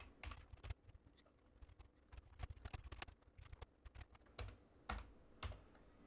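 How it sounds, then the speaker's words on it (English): Rapid, irregular clicking of keys on a computer keyboard, close and fairly quiet, in short bursts with brief pauses. "So I'll delete that text and begin typing."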